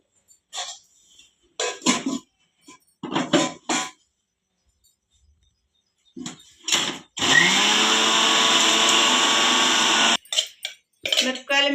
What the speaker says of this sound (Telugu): మిక్సీ అయితే పడుతున్నా